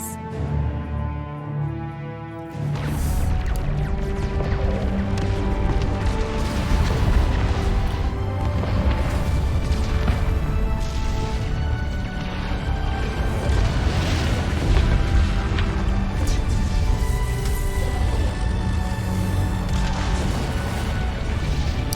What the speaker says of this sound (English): I'm intrigued how fire and explosion happens in space